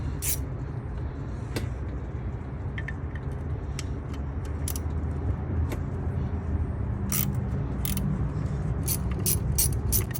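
A ratchet wrench loosens bolts on the oil cooler of a 2015–2023 Dodge Charger with engine failure, working over steady low background noise, with bursts of ratcheting clicks toward the end.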